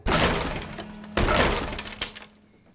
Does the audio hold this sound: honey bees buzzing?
no